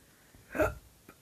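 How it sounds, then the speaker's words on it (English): A single sharp hiccup sounds close to the microphone during an Among Us gaming session, followed by a faint second catch a moment later, with no speech. "these hiccups are so annoying"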